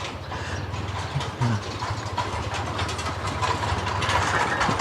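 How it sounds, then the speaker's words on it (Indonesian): A tractor engine chugs steadily while plowing a rice field in a village, a continuous low mechanical drone with rattling, moderately close and without talk. "Kapan lagi bisa lihat traktor jalan kayak gini ya aku di sini."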